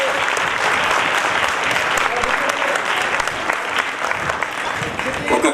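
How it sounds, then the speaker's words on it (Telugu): Sustained audience applause at a World Theatre Day stage program, dense, steady clapping filling the hall for several seconds without pause. "గట్టిగా చప్పట్లు మరి."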